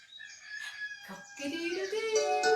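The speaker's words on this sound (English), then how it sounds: "Cock-a-doodle-doo." A rooster crows once in a loud, drawn-out call that rises and stretches out, heard close and alone against an otherwise quiet background, during a children's morning wake-up singalong.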